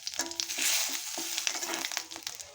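Dried red chilli, cumin and bay leaf crackle in hot oil in a kadai, a short close burst of sizzling spatter with a few stirring scrapes.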